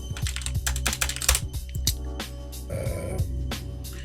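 Quick bursts of keystrokes on a computer keyboard as a klist command is typed, close and crisp with brief pauses between clusters, no talking.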